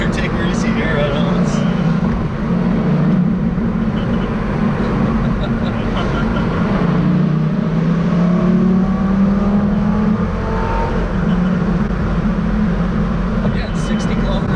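Lamborghini engine and exhaust drone steadily while driving at about 60 km/h, a loud continuous low rumble with a shifting tone that rises and falls slightly across the run, heard from inside the car with people talking over it.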